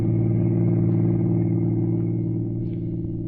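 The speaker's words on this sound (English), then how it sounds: "he was behind the wheel of a car, rolling smoothly along a lonely highway" A car cruising smoothly along a lonely highway, its low engine rumble and road noise steady and close throughout, easing slightly toward the end.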